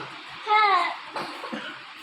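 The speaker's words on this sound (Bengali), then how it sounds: "কি কাশছিস কেন?" A child coughs once or twice close by at home, a short throaty burst with a rising whine before it, followed by faint indoor murmur.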